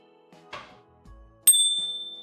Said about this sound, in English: is that the bell for the laundry cycle to finish?